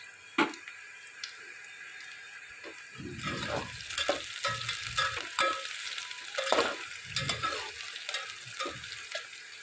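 Cloves, green chillies and a bay leaf drop into hot oil in a pan for masale bhat, starting from near quiet into bursts of crackling sizzle with scraping stirs, moderately close and fairly soft.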